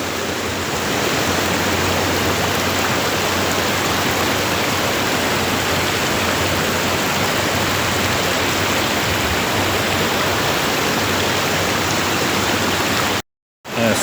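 Loud, steady roar of the rushing Chorna Tysa river in Kvasy, Ukraine, fills the whole stretch, broadband and close, cutting out abruptly near the end before returning.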